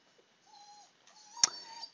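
A dog whimpering indoors: a few soft, thin, drawn-out whines with a brief sharper yelp near the end, faint and close.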